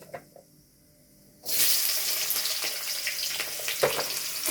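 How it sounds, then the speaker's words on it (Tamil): Two cinnamon sticks and two cloves drop into hot oil in a kadai and burst into a loud, sudden sizzle after a quiet start, then keep hissing steadily close by with small crackles throughout. "கடாயில் எண்ணெய் விட்டு 2 பட்டை,"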